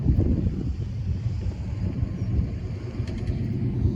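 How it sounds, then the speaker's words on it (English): Wind buffeting a microphone outdoors at a homesteading expo, a continuous low rumbling roar that rises and falls in loudness, close and fairly loud, with no speech. "The wind's blowing. Sorry if you hear the wind on the mic."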